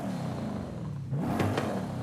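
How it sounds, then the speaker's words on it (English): Twin-turbo car fitted with a race exhaust revs in Forza Horizon 5: a constant engine drone that dips briefly, then swells into a sharper rev with a couple of crackling pops near the end. "We're gonna do race exhaust."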